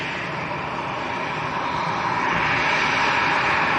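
An EasyJet airliner from Bordeaux roars at Lanzarote Airport, a broad, steady jet rumble that grows slightly louder toward the end, with no voices.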